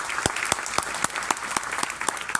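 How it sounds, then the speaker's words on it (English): Applause from the audience at a community reunion roast, steady rapid clapping with sharp individual claps standing out, moderately distant and even throughout. "give a huge applause to all of you for coming together"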